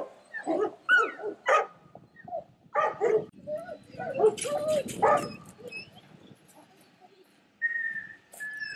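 Labrador hunting dogs during a training demonstration bark, yip and whimper in short bursts at close range, with a whistle-like tone near the end.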